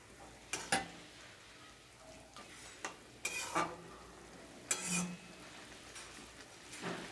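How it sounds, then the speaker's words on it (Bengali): Tangra fish curry with potato and cauliflower is sautéed in a pan with splashes of water, giving a soft sizzle broken by several sharp scraping and clanking spoon strokes against the pan. "জল দিয়ে দিয়ে ভালো করে এটাকে কষিয়ে নিতে হবে"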